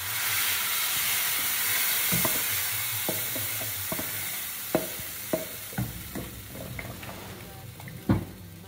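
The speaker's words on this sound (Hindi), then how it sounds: "ज़ीरे और प्याज का हम लगाएंगे अब तड़का।" Soft, steady sizzling of cumin and onion frying in hot oil for tempering lentils, with scattered clinks and stirring knocks, fairly close and quiet.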